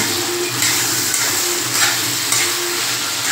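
Tomatoes seasoned with salt and turmeric sauté in a pan with a steady, close sizzle and occasional stirring, with no voices.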